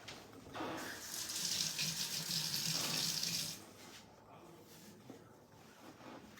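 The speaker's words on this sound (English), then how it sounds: "let me wash my hands off again" Tap water runs into a sink as hands are washed, a close, steady splashing gush for about three seconds before the flow stops, leaving faint room noise.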